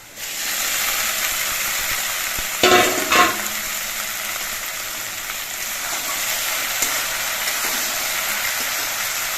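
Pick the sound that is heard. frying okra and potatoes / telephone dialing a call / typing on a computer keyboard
frying okra and potatoes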